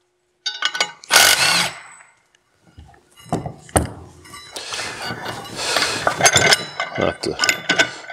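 An impact wrench removes bolts during work with a secondary spring compression tool, firing in short loud bursts between quieter clinks and handling noises.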